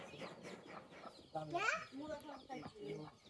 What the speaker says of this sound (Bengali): এই মুরগিগুলো দেখুন খোলা জায়গাতে কিভাবে খাবার খাচ্ছে।